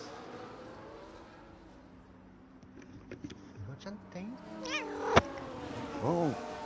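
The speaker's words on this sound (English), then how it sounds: "Oh, yeah, Tails, my cat, is agreeing with me" A house cat meows softly in the background, with a few short, quavering calls near the end over a low hum of motor-racing sim audio and a talking voice.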